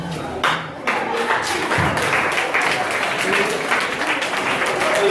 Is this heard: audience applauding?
yes